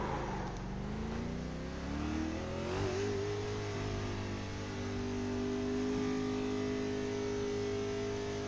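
Race car engine in the iRacing sim pulling out of the pits with no pit speed limiter, revs climbing in rising harmonic sweeps, then holding a steady loud drone as it gets onto the track.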